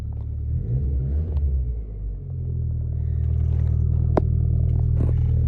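A steady, deep Mitsubishi Evo 9 engine and exhaust rumble close by, swelling slightly, with a brief clatter and sharp click partway through.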